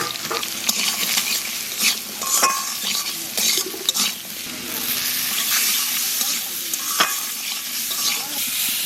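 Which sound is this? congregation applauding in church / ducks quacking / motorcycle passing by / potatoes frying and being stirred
potatoes frying and being stirred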